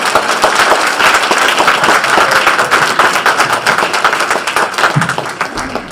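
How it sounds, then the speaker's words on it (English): Dense, loud audience applause after a campus conversation event, steady crowd clapping throughout that eases slightly toward the end. "Clap for me like you care."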